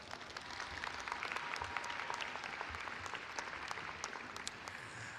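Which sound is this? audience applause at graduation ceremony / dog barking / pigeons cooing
audience applause at graduation ceremony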